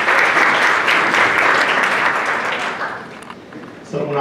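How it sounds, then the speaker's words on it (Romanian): Audience applause welcoming a speaker at a lecture event, full dense clapping that stays loud and steady before thinning out and fading near the end. "Vă rog să aplaudăm și să întâmpinăm călduros pe Radu Afanasiu."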